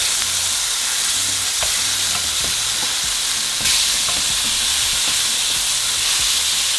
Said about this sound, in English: so after 4 minutes, we're going to flip our patties over